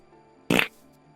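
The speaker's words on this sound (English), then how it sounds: "That's a fart." A single short fart, brief and fairly loud against a quiet background with a faint hum, lasting about a fifth of a second.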